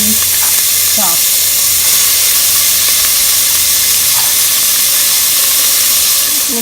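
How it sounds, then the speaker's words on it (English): Finely chopped onion, one medium-sized, going into hot oil with cumin seeds already crackling, making a loud, dense, steady hiss and sizzle up close with a few sharper pops, with a voice faintly underneath. "Now that the cumin has started crackling, I am going to add my onion."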